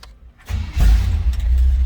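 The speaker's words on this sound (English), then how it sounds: "Let's go ahead and fire this up so you can hear it run." A 1970 Chevrolet C10 pickup's engine cranks briefly and catches, then settles into a loud, close, low rumbling idle with a slight rev, no voices present.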